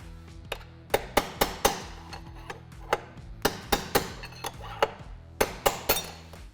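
A steel bearing race is driven out of a KTM 790/890 Adventure triple clamp with a series of sharp, ringing metallic hammer strikes. The blows come close up, in quick irregular clusters with brief pauses, and no one talks.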